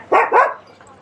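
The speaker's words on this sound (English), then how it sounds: "And that's a dog barking." A dog gives two quick, close barks followed by a faint trailing yip, heard clearly on a quiet street in Greece.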